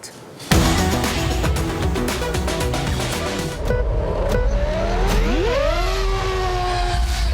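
A Formula 1 car racing against a high-speed drone, a loud, sustained engine roar at speed with rising and falling whine as it passes, steady and close throughout.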